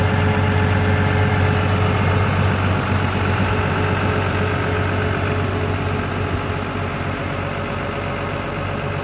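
The heavy diesel engine of a 2012 CAT M316D wheeled excavator (123 kW, 18.5 tonnes) idles loudly and steadily nearby, a constant low throbbing hum with no other sounds.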